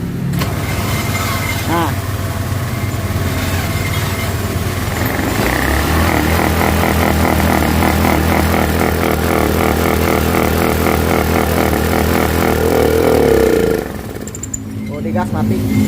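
A Honda Scoopy scooter with a fuel-injection fault starts up, and its engine runs loud and close with rough, uneven revving. It cuts out near the end, and a voice speaks briefly.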